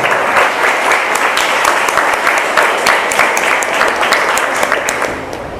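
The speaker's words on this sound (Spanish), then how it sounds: "Dale un fuerte aplauso a Dios." Loud, enthusiastic applause from a large crowd, continuous clapping sustained throughout without a break.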